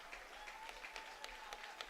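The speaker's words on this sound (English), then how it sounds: "He gets a round of applause from this Asheboro crowd" A crowd at an Asheboro Zookeepers home baseball game against the High Point-Thomasville HiToms applauds a pitcher leaving the mound. The clapping is scattered and fairly distant, with sharp individual claps standing out over a steady murmur.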